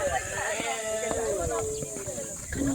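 A young person at a youth camp game imitates a goat's bleat with a wavering, nasal voice, close and loud over noisy background chatter and shouting from other campers.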